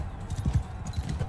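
Horse hooves clip-clopping in the Mount & Blade II: Bannerlord video game, a quick, close run of muffled thudding hoofbeats during a tournament.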